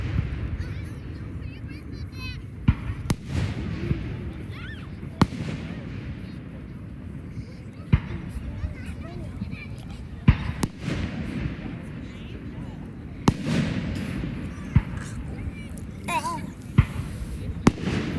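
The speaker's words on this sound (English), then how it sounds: "when it goes boom, boom, boom, boom, and it just keeps shooting them off." Fireworks display bursting in repeated booms, with sharp cracks and thuds scattered through the whole stretch at varying distances, some loud and close. Crowd chatter and voices continue underneath throughout.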